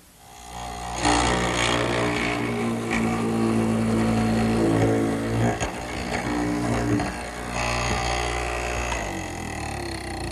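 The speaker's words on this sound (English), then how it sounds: "Okay, now to the mortising machine." A loud mortising machine cutting square holes in wood grinds and whirs continuously, with the pitch shifting as the cutter bites in and eases off.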